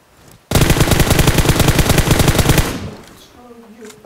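Automatic gunfire from PUBG Mobile, a loud, rapid burst of evenly spaced shots lasting about two seconds after a quiet start, followed by fading echoes and a faint voice.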